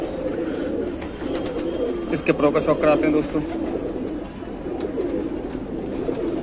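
Galdar Kalsara pigeons coo in a low, rolling burble, a few close calls bunched together, while someone talks over them throughout.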